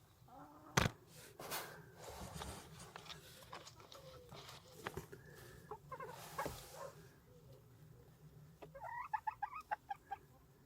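Newly arrived farm birds kept in a quarantine hutch give soft clucks and calls, with a burst of quick, brighter chirping calls near the end, all fairly close over low background noise.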